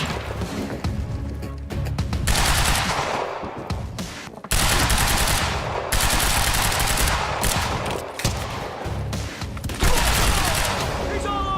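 Sustained automatic gunfire in the video game Quantum Break, loud, dense bursts filling nearly the whole stretch with brief gaps, while a voice shouts over the shooting.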